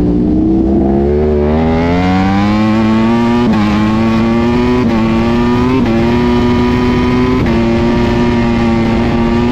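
Racing motorcycles on a circuit pass close and loud, their high engine whine rising and falling through gear changes in a continuous, overlapping stream of several bikes.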